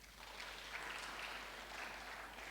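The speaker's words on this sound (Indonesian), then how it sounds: "Tepuk tangan buat Tuhan" Church congregation at Sunday worship applauds, a faint, even patter of many hands clapping together in a large room, sustained and distant.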